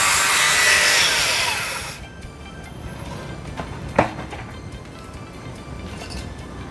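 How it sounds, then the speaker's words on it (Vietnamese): A power saw cutting wood for a racing boat at a pagoda roars loudly for about two seconds, then cuts off, leaving a quieter background with a single sharp knock. "Hiện tại cũng nghe tiếng máy cưa nhà"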